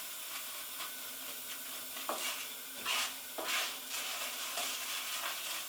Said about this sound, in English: we want to get the Orzo golden brown. I don't know whether you can see, but it is just starting to toast.